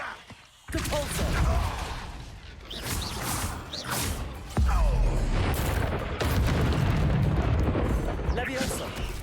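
A Depulso spell is cast in the Hogwarts Legacy video game, a loud whooshing magical blast with booming impacts over a constant roar of combat effects, with short game voice lines heard in between.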